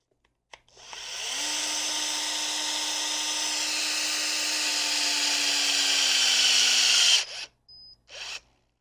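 A RAD 3000 battery torque wrench, set to 750 foot-pounds, runs steadily with a loud whining motor drone that slowly rises in pitch as it tightens a bolt held by a magnetic backup wrench, then stops abruptly and gives short clicks as it backs off.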